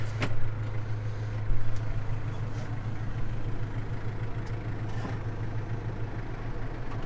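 A farm tractor with a cab idles before baling first-crop hay, a steady low engine drone that stays constant throughout, with a couple of brief knocks and rattles near the start.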